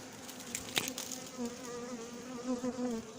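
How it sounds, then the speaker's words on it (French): A small honeybee swarm in the middle of a hedge buzzes steadily and fairly quietly, a continuous droning hum with individual bees passing close by. "C'est pas un super gros essaim, mais quand même c'est un essaim."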